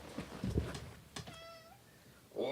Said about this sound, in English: This cat is the embodiment of Stewie Griffin.